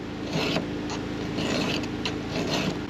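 A metal file rasping along a chainsaw chain cutter in repeated close strokes, each stroke a short gritty scrape with brief pauses between, steady and moderately loud.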